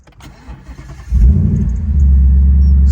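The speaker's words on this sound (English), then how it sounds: "So now I'm gonna start the vehicle to you." A Ford Mustang GT 5.0 S550 with a 10-speed gearbox starts up: a brief starter whir catches into a deep, loud engine roar that settles into a steady, rumbling idle close by.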